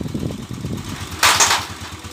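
A Honda TMX125 Alpha motorcycle with a 175cc conversion idles smoothly in a steady, low, even pulse, with a short, louder, breathy rush of exhaust in the middle before it settles back to idle.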